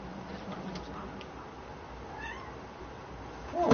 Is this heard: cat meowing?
yes